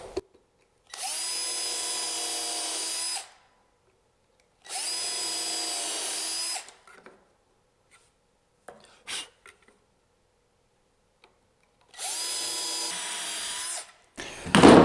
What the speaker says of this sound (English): Okay, so I'll pre-drill my holes.